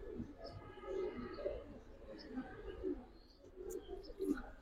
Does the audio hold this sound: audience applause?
no